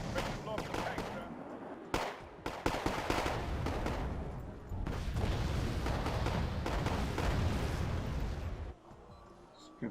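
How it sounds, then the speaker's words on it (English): Gunfire and explosions during a tank attack in the military strategy game Wargame AirLand Battle, with dense rattling shots and heavy blasts rolling almost continuously for about nine seconds before cutting off. "Ready to blow up the tank, sir."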